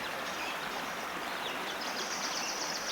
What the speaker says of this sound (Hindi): पंछियों के उड़ने की और झरने से पानी बहने की आवाज